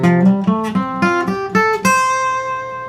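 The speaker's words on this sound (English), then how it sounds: "similar to the start of the prelude you hear in all the Final Fantasy games" A guitar picks a rising arpeggio in EADGCF tuning, several evenly spaced plucked notes climbing to a final ringing note that sustains and fades, close and clean with no talking.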